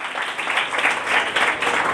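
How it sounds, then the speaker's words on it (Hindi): Congregation applauding during a live Father's Day sermon in a church, a steady dense wash of clapping that holds at even strength for the full two seconds with no voices on top. "जोरदार तालियां"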